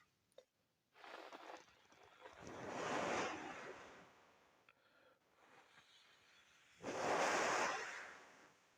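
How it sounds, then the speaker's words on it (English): Airflow from a Sovol SV08 3D printer's fan rushing through a ribbed aluminum shield, a broad breathy whoosh that swells in two loud bursts separated by a quieter hiss. "the fan itself is not that noisy. It's just the path of the airflow that makes it so noisy"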